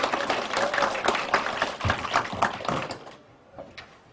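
A small audience at a Goyang agricultural policy forum claps for two council members, a short burst of close, distinct hand claps that thins out and stops after about three seconds, followed by a few stray claps.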